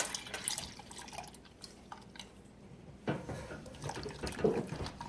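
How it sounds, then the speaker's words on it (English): Soy milk is poured into cocoa powder and whisked, a soft close liquid splash and dribble followed by light sloshing and wet stirring, fairly quiet and without talk. "So now we can add the milk, and we're just going to add it and whisk it."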